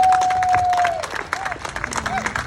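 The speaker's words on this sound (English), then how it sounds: "let's have a round of applause for Martin Donohoe" An audience at a book launch in Cavan applauds for a guest, a crowd of clapping and a few cheers mixed with voices, fairly close and lively throughout.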